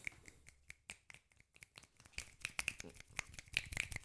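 Finger snaps used as applause at a poetry-style event, a scattered, irregular run of crisp, fairly close snaps from several hands that grow denser and overlap toward the end.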